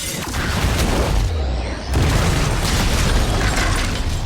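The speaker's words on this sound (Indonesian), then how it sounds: "Dan benar aja, bom itu langsung meledak" A bomb goes off in the action film The Equalizer 2. A loud, dense blast fills the scene, dips for a moment, then surges again into a sustained roar of debris and rumble.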